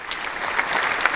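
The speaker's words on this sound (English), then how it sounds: "let's give a big round of applause to all the participants, mentors, and organizers who made this event possible" Brief burst of audience applause for participants, mentors and organizers at a data and AI careers event, steady and moderately loud throughout a short stretch with no talk.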